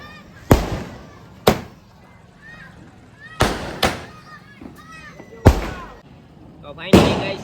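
Diwali firecrackers, bought as bombs from a stall, bursting in a series of about six loud sharp bangs with sparse gaps, each trailing off quickly into crackle and ambient noise.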